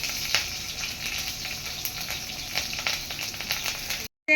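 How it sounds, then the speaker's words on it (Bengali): Chillies hit hot oil already fragrant with garlic and black cumin, giving a loud, close, continuous sizzle full of sharp crackles and spits that cuts off abruptly near the end. "এবার আমি লঙ্কাগুলো দিয়ে দিলাম"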